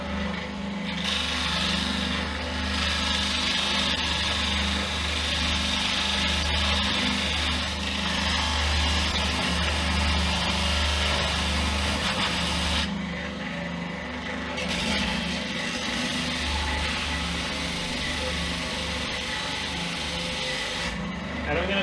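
A power sander grinds steadily against a wooden guitar neck, scooping and flattening it, with a continuous close, loud whirring rasp that briefly changes tone as the wood is pressed and lifted.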